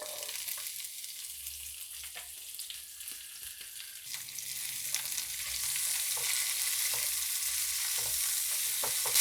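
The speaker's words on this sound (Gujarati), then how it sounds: "મરચાંને 2 થી 3 મિનિટ માટે આ રીતે સંતળાવા દઈશું।" Chopped green chillies with cumin and a pinch of asafoetida sizzle in hot oil over a medium flame, a steady crackling fry that grows louder over several seconds with occasional stirring scrapes and no talking.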